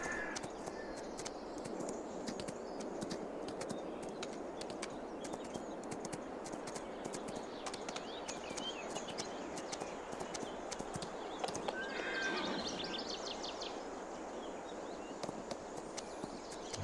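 Horse hooves clip-clopping in Farming Simulator 22, a steady, continuous run of hoofbeats over constant background noise, with faint crow-like caws, alone with no talk.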